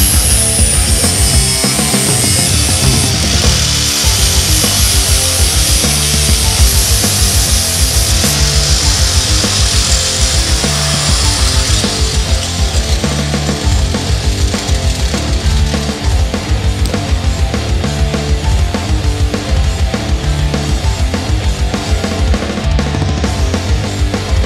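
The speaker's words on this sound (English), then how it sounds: "So I'm gonna get rid of these two welds, smooth them out." Grinding away old welds on a Banshee 350 swing arm, a continuous loud, steady abrasive whine that runs unbroken the whole time with no talk.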